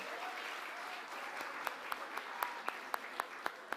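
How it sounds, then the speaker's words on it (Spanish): Applause from a panel audience at a press forum on drug trafficking and organized crime, a soft steady patter of many hands with sharper individual claps standing out toward the end, somewhat distant. "Creo que el aplauso debe ser bien grande."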